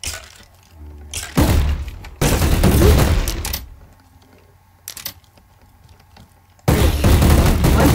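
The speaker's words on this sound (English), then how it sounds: "let's use a little Uzi" Bursts of Uzi submachine gunfire in a GTA-style Minecraft server game come loud and close, with several rapid volleys separated by brief quieter gaps.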